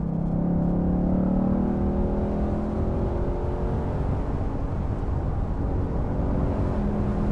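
A 2019 Ford Mustang engine revving as the car drives through hills, a strong, steady droning roar with rising pitch, close and continuous, with road and wind noise underneath.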